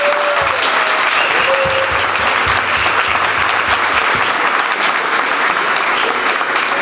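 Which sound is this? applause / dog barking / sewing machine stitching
applause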